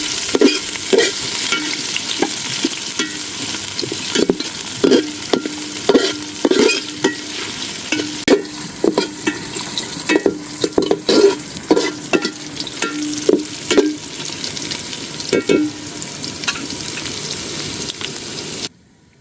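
Chopped garlic, ginger and dried red chili sizzle in oil for chicken khichuri, with a constant close frying hiss broken by frequent, rhythmic scrapes and taps of a spoon stirring the pan.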